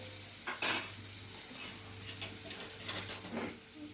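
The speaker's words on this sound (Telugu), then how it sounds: "దీంట్లో చిటికెడు అల్లం వెల్లుల్లి పేస్ట్ కూడా, ఉల్లిపాయలతో పాటు వేస్తాను. ఈ మగ్గిపోతుంది 2 నిమిషాలు." Sliced onions with ginger garlic paste sizzle softly in a pan while a spoon stirs and scrapes, a few sharper clinks of utensil on metal over the quiet frying.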